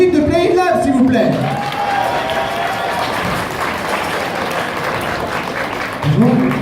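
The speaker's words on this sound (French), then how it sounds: "applaudissez l'équipe de Play Lab, s'il vous plaît." At the Mad'jap 2018 cosplay contest results, a crowd loudly applauds the Play Lab team with sustained clapping and a few cheers, while a voice speaks over it at the start and again at the end.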